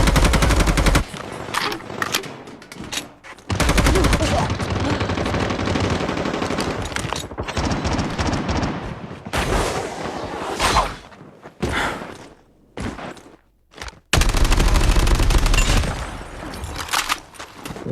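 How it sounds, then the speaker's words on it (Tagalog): Video game gunfire from an automatic weapon during a match, rapid loud bursts of shots with whooshes and thuds, coming in repeated volleys separated by brief pauses. "may bitaw talaga tong baril na to guys"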